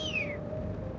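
A single short, high meow-like call sweeping downward, a person imitating a kite's call, fading into faint background hum.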